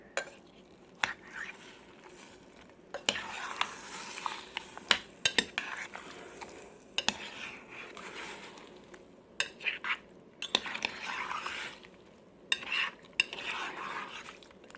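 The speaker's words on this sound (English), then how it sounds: "I'm going to give it a quick stir." A spoon stirs a pot of peppers that have simmered about an hour and a half, with sharp intermittent clinks and scrapes against the pot over a faint background bubbling and frying.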